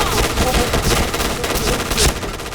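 Rapid, loud automatic gunfire from the Point Blank shooter game rattles continuously, dense and close, with a burst peaking near the end.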